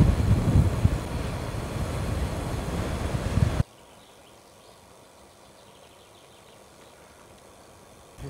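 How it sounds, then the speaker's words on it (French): Strong headwind roars and buffets the microphone for several seconds while cycling in the Morvan, then cuts off abruptly into near silence. "J'espère que la session vent de face est bientôt terminée."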